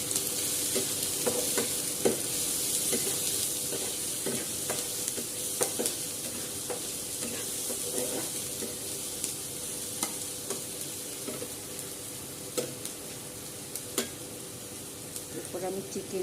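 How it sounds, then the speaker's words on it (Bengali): Chopped garlic sizzles in a hot pan for palak chicken, a steady crackling hiss broken by repeated scraping taps of stirring, close and moderately loud. "এরপর আমি রসুন কুচিগুলো দিয়ে দিচ্ছি।"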